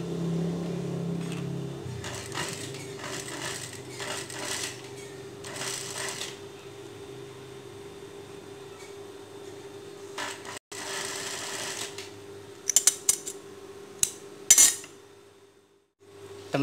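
Sewing machine running a continuous stitch along the edge of a child's dress, a steady close mechanical hum with a few brief pauses and light clicks toward the end.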